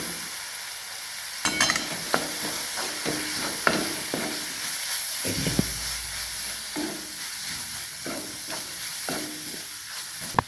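Spices, turmeric, red chilli powder and garam masala are stirred in a hot pan for a moth bean curry, the spoon scraping and tapping in irregular strokes over a continuous soft sizzle, close and fairly quiet.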